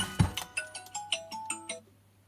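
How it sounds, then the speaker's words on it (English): A telephone rings in an e-bike repair workshop with a short electronic ringtone: a quick run of about seven bright chirping beeps in a rising and falling pattern that stops and fades into quiet. "The telephone is ringing."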